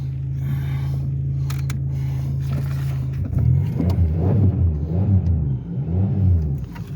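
A car engine idling with a steady low hum, then revved in a series of loud, throaty surges that rise and fall, heard close up.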